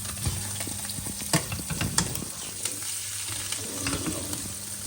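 Garlic sizzling and frying in oil in a pan, a steady close crackle with scattered pops and occasional stirring scrapes, heard alone without voices.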